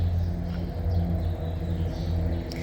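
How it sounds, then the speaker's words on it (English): Trucks on a road beside an outdoor garden center early in the morning produce a continuous low rumble, a steady, moderately loud drone with no talking. "the trucks on the other side of the road will not be having it"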